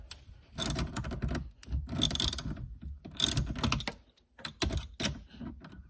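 A ratchet wrench loosening the negative battery terminal on a Dodge Charger Scat Pack 392, several short bursts of quick clicking, close and distinct, separated by brief pauses.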